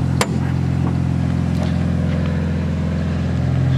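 A BMW E30's M20 inline-six runs at a steady idle nearby, its even low hum and fine rhythmic pulses continuing unbroken, with a brief sharp knock near the start.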